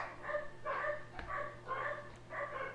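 Several dogs bark in repeated bursts at a steady rhythm, fairly close and loud over a low constant hum, with no talking.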